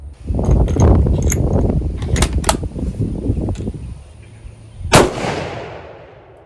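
A 6.5 Creedmoor rifle fires a 100 grain bullet in one sharp, loud, close report with a ringing decay, after several seconds of clattering handling noise.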